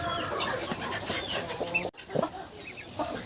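Several hens cluck and squabble nearby in a busy, continuous murmur among newly hatched guinea fowl chicks, with a brief sharp knock partway through.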